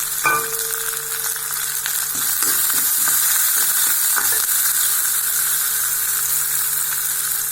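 Two green chillies added to onions frying in a pan give a steady, close sizzle, with a few clinks of a utensil stirring near the start, continuous and fairly loud, without speech.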